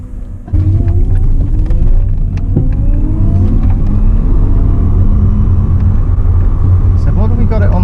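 A Tesla-powered electric conversion of a Volkswagen Golf GTI pulls away in reverse, a loud, rising electric whine over low road rumble that swells and holds steady, heard from inside the cabin.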